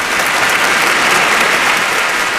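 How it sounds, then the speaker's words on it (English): A canned applause sound effect fired from a button on a San Francisco sports radio pregame show: dense, steady clapping and crowd noise at full level for the whole stretch. "Where's my applause button at 5:01 a.m. here in San Francisco?"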